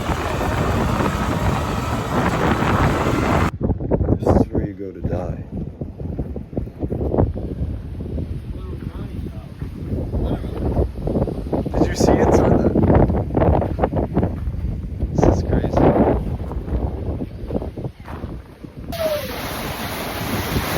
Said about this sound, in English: You guys can hear how windy it is.